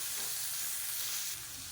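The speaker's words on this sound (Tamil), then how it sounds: "இப்போ மீடியமான ஃப்ளேமில் கேரட் வேகிற அளவுக்கு நல்லா வதக்கி எடுத்துக்கணும்." Carrots and onions sauté in a pan over a medium flame, giving a close, steady hiss and sizzle with no talk.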